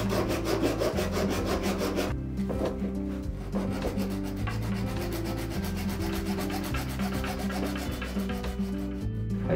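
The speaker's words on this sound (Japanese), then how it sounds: "ノコギリで切断しちゃいます。" A small plastic-cutting handsaw rasps back and forth through a plastic ant figure part in quick, even strokes, close and continuous, with a brief pause partway through.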